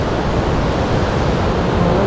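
River water rushes loudly and steadily beneath a bridge crossed by bicycle on a mountain road, a dense, unbroken roar close by with no voices over it.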